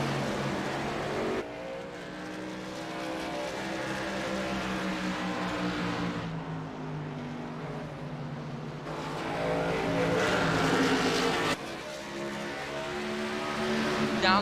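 Racing trucks' engines at Bristol in a truck racing video game, a loud steady high-revving drone that rises and falls as the trucks lap the short oval, with brief shifts in pitch and no talking.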